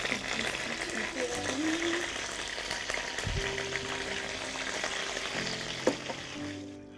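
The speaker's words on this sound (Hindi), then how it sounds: "दही डालने के बाद फिर हमें इसको अच्छी तरह से और भूनना है, ताकि दही जो है वो ऑयल छोड़ती है" Chicken with yogurt frying in oil in a pot for khatta chicken, a steady close sizzle with occasional stirring scrapes and brief clinks, continuous throughout.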